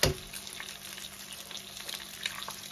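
An egg frying in a pan gives a soft, steady sizzle after a brief louder crackle at the start, with faint clicks scattered through the quiet kitchen background.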